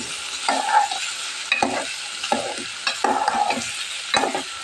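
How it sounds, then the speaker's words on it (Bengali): Taro pieces fry in hot oil with shrimp and onion as a spatula stirs them, producing a close sizzle punctuated by about six distinct scraping strokes in an uneven rhythm, with no talking. "চিংড়ি মাছ আর পেঁয়াজের ভিতরে তেলের ভিতরে এটাকে একটু ভেজে লাল করে নিলাম"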